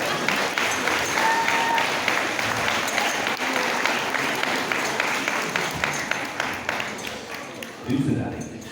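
An audience at a sheep show claps together in a loud, continuous round of applause, close and steady, fading slightly near the end as a voice comes in.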